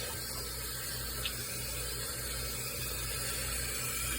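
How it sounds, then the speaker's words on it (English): Hot tap water runs steadily over coffee equipment being rinsed in a sink, a continuous close hiss of flowing water with no voices. "you always want to rinse your coffee equipment with hot water, as hot as you can take it"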